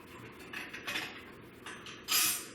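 Screws under the back plate of an EVGA GTX 1080 graphics card are undone, giving close, faint metallic scrapes and small ratcheting clicks in a few short bursts, with one louder rasp near the end.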